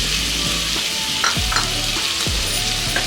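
Tomato and masala frying in oil for a hotel-style vegetable kurma, a close steady sizzle broken by a few sharp spatula scrapes and knocks.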